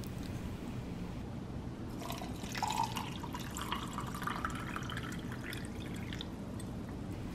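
Water poured or dripping into a pot for a herb-infused home DIY, a faint trickle and splashing that starts about two seconds in and runs on steadily over low background noise.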